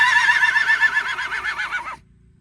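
A horse whinnies at a hunter horse show, one loud, close, quavering neigh lasting about two seconds before cutting off to near silence.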